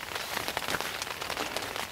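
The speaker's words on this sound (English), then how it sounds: "the rain's come on." Steady rain pattering on a tent and surrounding grass during a September overnight camp at Loch Doon, a dense, close hiss of drops with no talking.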